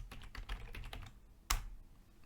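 Quiet typing on a computer keyboard while editing code, a quick run of soft clicking keystrokes followed by one sharper key tap, close and alone.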